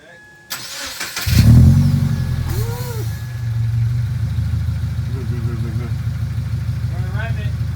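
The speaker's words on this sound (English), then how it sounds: "with any good exhaust video, you need to hear it without any muffler." A 2015 Subaru Impreza with no muffler cranks and fires up with a loud, raw bark, then settles into a deep, rough idle close by, and a voice talks briefly over it.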